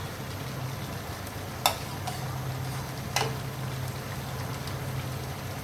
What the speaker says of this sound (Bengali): আমার সবজিটা সিদ্ধ হচ্ছে